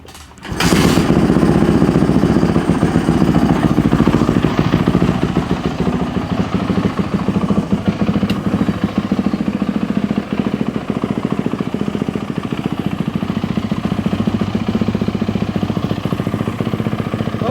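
A dry sump engine cranks and catches after a brief quiet, then settles into a loud, close, steady running rumble with a fast even beat and light mechanical clatter that holds for the rest of the stretch.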